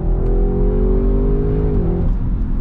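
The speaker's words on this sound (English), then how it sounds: "You hear all of that beautiful exhaust noise that comes out the back" A 2020 Audi RS6 Avant in RS mode with an RS exhaust roars loudly from inside the cabin, a steady deep droning engine note that holds its pitch then dips as the revs drop near the end.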